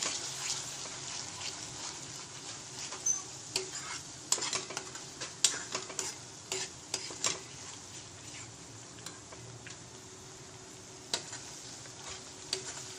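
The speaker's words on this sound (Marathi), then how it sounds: "थोडंसं परतवून घेऊया आपण।" Ground masala paste for katachi aamti is sautéed in a pan. A soft, steady sizzle runs under repeated spatula stirs and scrapes against the pan, close and moderately quiet.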